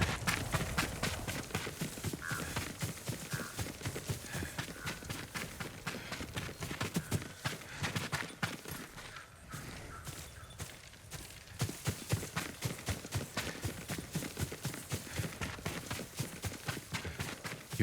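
Horse hooves clip-clopping in Ghost of Tsushima, a steady rhythmic run of close, crisp hoofbeats that slows briefly midway before picking up again, with no talking.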